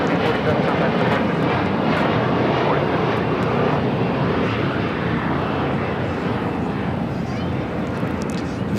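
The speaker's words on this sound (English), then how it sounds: "Viva Aerobus. It's an A320 heading to Guadalajara." An Airbus A320 jet taxiing at LAX airport gives a steady, loud, broadband engine roar that continues without a break, with faint talk mixed in underneath.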